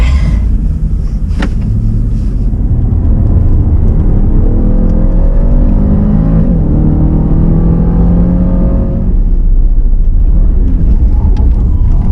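A 500-horsepower race car at the Race of Remembrance 2021 accelerates hard, its engine note climbing steadily through the gears, close and loud over a constant rumble, then dropping back near the end.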